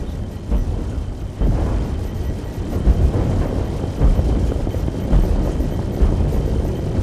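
Origin 600i spaceship under fire in a video game, with heavy rumbling explosions and booming impacts rolling continuously, loud and dense, no voices.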